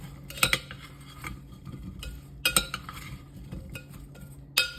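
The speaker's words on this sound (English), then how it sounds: "you're gonna want to mix. Kind of stir this up a little bit" Crockpot dinner ingredients being stirred in a bowl with a metal utensil, giving repeated clinks and scrapes against the sides, with a few sharper knocks spaced through an otherwise quiet stretch.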